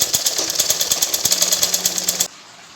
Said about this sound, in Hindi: यहाँ पे हम इसके जो कपड़े काटे थे उसको सिलाई कर रहे हैं बाजू में